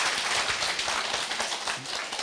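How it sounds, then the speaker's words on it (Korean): A lecture audience claps vigorously, a dense, continuous patter of many hands close by with no pauses. "열렬박수를 쳐야 돼요"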